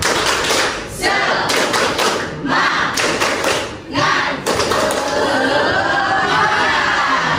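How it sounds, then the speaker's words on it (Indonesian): Classroom students stand and perform a rhythmic spirit clap, loud sharp claps in patterned bursts with brief pauses, a room of many hands close by, with some chatter and laughter mixed in. "Tepuk semangat."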